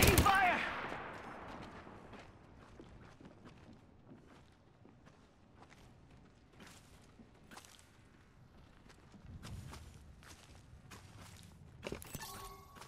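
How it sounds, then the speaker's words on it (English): Bursts of gunfire from a shooter video game with a shield mechanic, scattered sharp shots and short automatic volleys at moderate distance, with footsteps and game effects around them. "Taking fire!"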